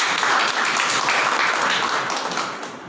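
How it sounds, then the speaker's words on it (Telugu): A congregation at a Telugu church worship service claps together in a dense, steady burst that carries on without a break, with no speech. "ఒకసారి దేవుని సన్నిధిలో చప్పట్లు దేవుని నామాన్ని మహిమపరుద్దాం."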